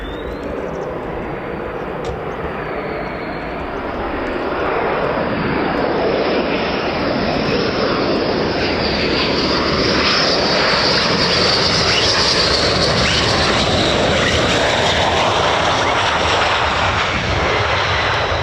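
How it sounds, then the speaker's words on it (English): An F-15 fighter jet with a jammed landing gear takes off at RAF Lakenheath, its engine roar building from a steady whine into a loud, sustained blast that grows stronger as it powers away. "So this is the F-15 Sniper 1-3 with the gear that's jammed."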